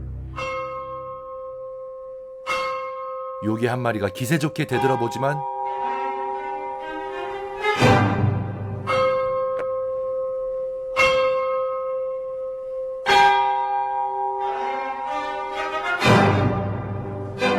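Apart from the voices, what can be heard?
church bells in Berlioz's Symphonie fantastique, funeral scene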